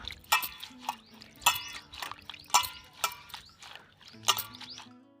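Water is poured over fresh fenugreek leaves to wash them, heard as a run of splashy drips and trickles spaced across a few seconds, with a bird chirping faintly nearby.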